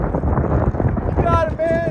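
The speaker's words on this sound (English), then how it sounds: "That wind's no joke up there." Strong wind buffeting the microphone outdoors near a helicopter takeoff pad, a loud low rumbling wash in uneven gusts through the short stretch, with voices over it near the end.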